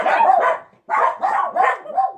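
Puppies barking close and loud, a quick run of about five or six yappy barks in two bursts separated by a short pause.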